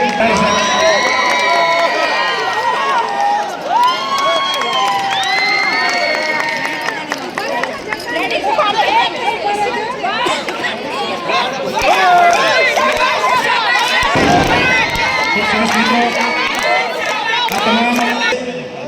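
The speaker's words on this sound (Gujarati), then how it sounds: "ફરી આપણે તાળીઓના ગણગણાથી વધાવીએ" A crowd cheers and claps for the runner-up Sanand men's tug-of-war team at a teachers' district sports festival prize ceremony, a loud, continuous mix of shouts, chatter and clapping with voices over it throughout.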